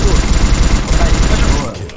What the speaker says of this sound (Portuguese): Um tiro, um tiro, um tiro, um tiro